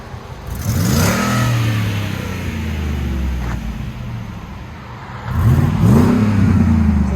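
A 6.2L V8 exhaust on a Ford F-150 SVT Raptor revving: two loud, close blips that rise and fall with a steady deep idle between them, heard alone.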